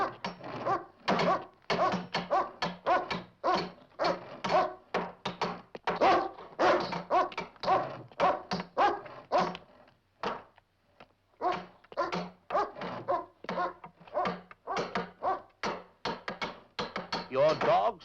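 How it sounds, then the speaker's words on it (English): A hungry dog barking repeatedly in quick, loud bursts that run almost continuously, with a brief pause midway before the barking resumes. "Your dog seems to be getting hungry, Major Rogers."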